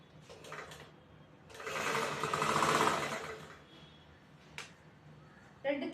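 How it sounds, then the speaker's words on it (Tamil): A sewing machine stitches blouse fabric, giving a short burst and then a longer buzzing run that swells and fades, with light handling clicks around it. "ஸ்ட்ராங் தையல் போட்டுக்கலாம்."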